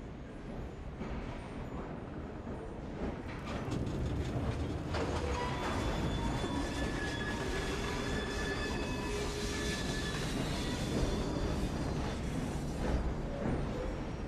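Train running in Assassin's Creed Syndicate, a steady, loud rumbling rail roll with faint squealing tones and clatter, continuous throughout without speech.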